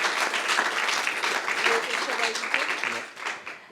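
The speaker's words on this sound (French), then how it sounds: "on peut les applaudir." An audience applauding a team of five students at a regional sales competition final, a sustained wash of clapping that fades toward the end, with voices heard talking over it.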